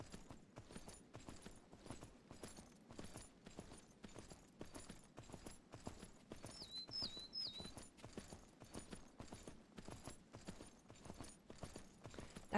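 In the Myth of Empires video game, a horse's hooves clip-clop in a steady, even trot that runs throughout, moderately loud, over soft outdoor ambience with a brief bird call.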